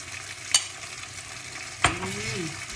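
Egg stir-fried with glass noodles and pork belly in a pan gives a low steady sizzle, with two sharp utensil clacks against the pan and a brief low vocal sound after the second.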